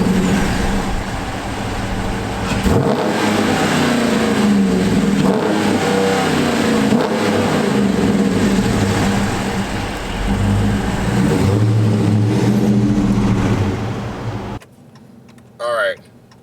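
A 2019 Dodge Charger R/T drives along a road with a steady engine drone and tire roar rising under acceleration, someone talking over it, ending abruptly in near quiet.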